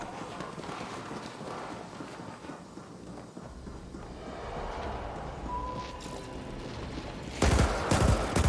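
Gunfire in The Ascent video game, a dense rattle of shots amid busy combat noise, with a sharp louder burst of blasts near the end.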